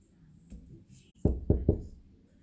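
Three quick knocks on a door, loud and close, after a quiet stretch with faint background sound and no talking.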